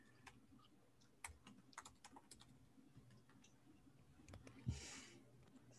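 Typing on a computer keyboard during an online working-group meeting: scattered soft key clicks in short bursts, faint and close, with no speech.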